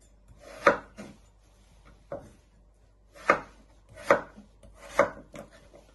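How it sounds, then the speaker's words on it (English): A knife chops potatoes into small pieces on a board, giving five sharp, distinct thuds at uneven intervals, close and clear with no talking. "And you keep chopping all your potatoes."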